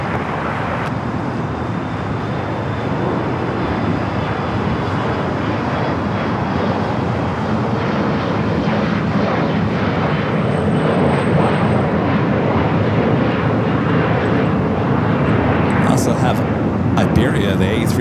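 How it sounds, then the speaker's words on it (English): An Iberia Airbus A350 arriving from Madrid lands on the north side at LAX, its steady, broad jet roar filling the whole stretch at a distance without letting up. "Iberia, the A350, just landing up there on the north side, coming in from Madrid."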